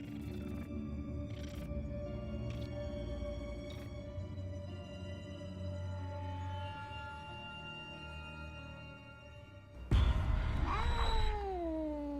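A cat meows and caterwauls in drawn-out, wavering cries, with a louder, sliding yowl near the end over a steady background hum.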